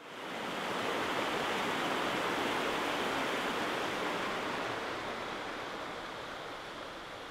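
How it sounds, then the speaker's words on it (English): Water pours over a weir on a mill race just off the River Aire in West Yorkshire, a constant broad rushing roar, fairly close and steady, easing slightly toward the end. "I'll just show you then the weir that was obviously constructed because we're in a little bit of a mill race here"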